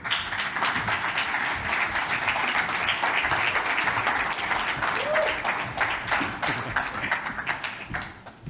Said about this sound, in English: Sounds like a few people have been paid to clap at the front, professional clappers.